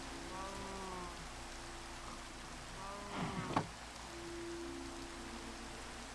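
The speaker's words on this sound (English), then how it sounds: "luckily, yeah, it's raining" Rain falls steadily in Minecraft as a soft, constant hiss, with brief game tones and a short clatter of other in-game sounds partway through.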